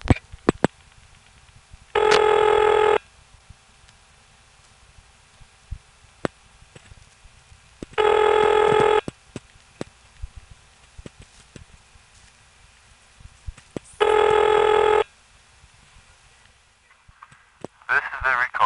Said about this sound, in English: Twice, it goes to a reorder tone immediately.